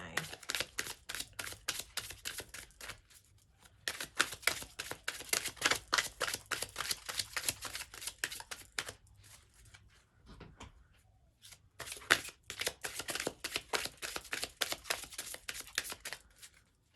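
Romance Angel Oracle cards are shuffled by hand in a dense, rapid flutter of card riffles, broken by a few short pauses and played close and fairly soft, with no one speaking.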